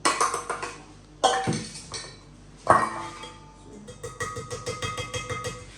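A whisk clinks against a bowl as flour is stirred into pineapple cake batter, with quick metallic taps in short bursts and then a steady, rhythmic run of close clinks.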